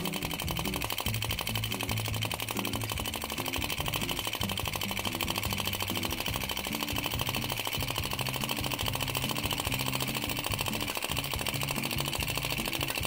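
A small vacuum external combustion engine runs with a fast, steady mechanical ticking and chugging, rhythmic and close, continuing evenly without a break.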